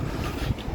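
Cold wind buffets the microphone outdoors in one steady low roar for under a second, with no voices.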